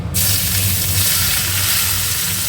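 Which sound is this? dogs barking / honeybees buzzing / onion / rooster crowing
onion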